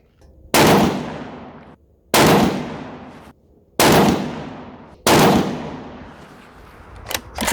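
Four loud rifle shots from a 6.5 Creedmoor RPR with a 24-inch Krieger barrel, each a sharp crack with a long decaying echo, spaced about one and a half seconds apart outdoors.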